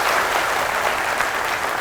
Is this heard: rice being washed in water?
no